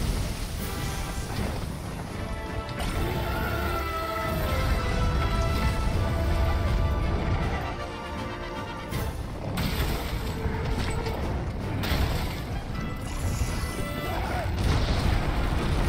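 Dense, continuous game audio from Monster Hunter World with a catapult explosion buried in it, heavy booms and crashes layered over steady music and effects, loud throughout with no clear standalone blast.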